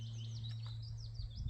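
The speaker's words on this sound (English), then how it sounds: "You hear the birds singing." Small birds chirp and sing faintly outdoors on a sunny day in the Peak District countryside, several quick calls over a steady low hum.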